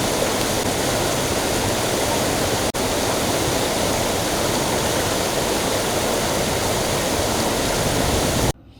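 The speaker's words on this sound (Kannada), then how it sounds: "ನಗರದ ಮಧ್ಯಭಾಗದಲ್ಲಿ ಹಾದು ಹೋಗುವ ತುಂಗಾ ನದಿ ಮೈದುಂಬಿ ಹರಿಯುತ್ತಿದೆ" The Tunga river runs in full spate through the middle of the city after dam water is released, giving a loud, steady broadband roar of rushing water that fills the whole stretch without talk and stops abruptly at the end.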